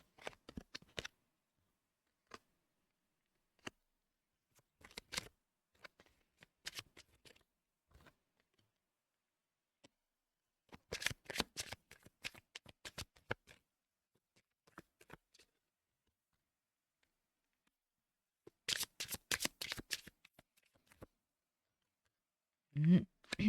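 Tarot cards are shuffled in separated bursts of crisp, close riffling and flicking, with long quiet gaps between the flurries and no talking.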